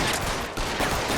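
Loud burst of gunfire from a handgun in a 1940s Los Angeles crime game, sounding as dense, close, continuous cracks filling the whole moment with no talking.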